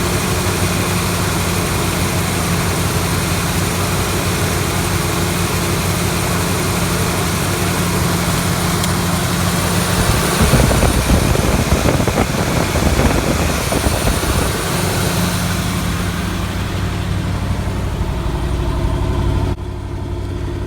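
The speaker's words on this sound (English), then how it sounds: "Let's hit the ignition and see what it does." A 1974 Corvette Stingray barn find, fuel poured down the carburetor, cranks and fires, settling into a loud, steady engine idle that holds for about twenty seconds with a rougher surge midway.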